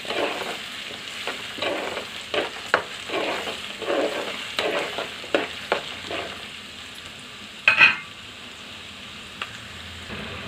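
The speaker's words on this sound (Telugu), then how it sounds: "ఉల్లిపాయ ముక్కలు గోల్డెన్ కలర్ రావాలండి వచ్చేంత వరకు వేయించుకోవాలి" Chopped onion pieces frying in hot oil for a Telangana-style chicken fry, a steady close sizzle broken by repeated scraping stirs and one sharp clatter near the end, with no voices.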